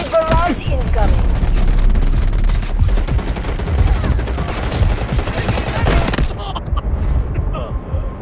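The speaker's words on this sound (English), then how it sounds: "Roger that, artillery barrage incoming." Loud, dense barrage of explosions and gunfire in the Delta Force Mobile game, continuous cracks and booms for several seconds, then easing into a lower rumble near the end.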